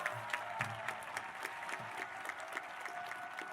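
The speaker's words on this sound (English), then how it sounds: "How about a nice round of applause for Mr." A high school commencement audience applauds, many hands clapping in a steady, moderately distant roar punctuated by sharper close claps, with a faint voice underneath.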